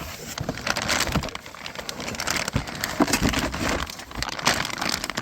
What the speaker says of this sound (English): Let me get it out of the plastic.